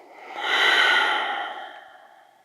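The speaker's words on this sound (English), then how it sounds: "Take a final breath in together and a final breath out together" A single slow, deep breath drawn in and released during a gentle beginner yoga session, soft and close, swelling then fading over a couple of seconds with no talk.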